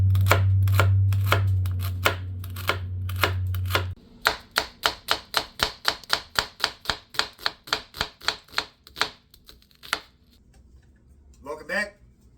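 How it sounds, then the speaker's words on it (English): Rapid, even knife chops on a cutting board, about twenty sharp knocks in a steady rhythm, after a low hum and a few earlier taps. "We are now at the stage of chopping the crab meat"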